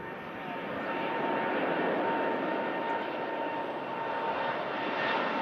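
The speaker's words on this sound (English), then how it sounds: "Oh, a lovely slow rotation there from the Gulf Air Dreamliner." A Gulf Air Dreamliner jet taking off from Manchester Airport, its engines a loud, steady broadband roar that swells slightly and holds, heard from a distance with no talk.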